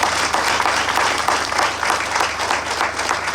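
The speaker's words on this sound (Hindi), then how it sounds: "हमारे लिए तो तालियां बजती है कि नहीं?" An audience at a business plan presentation claps in a loud, sustained round of applause with a steady mass of hand claps throughout, with no speech over it.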